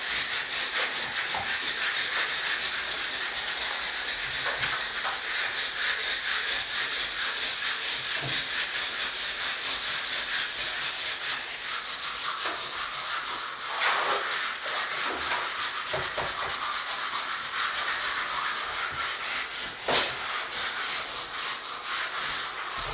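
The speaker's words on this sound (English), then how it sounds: "Once you give it a go over with the wire brush" Wire brush scraping hard across a brick wall, a loud, continuous close-up rasping hiss that runs unbroken throughout.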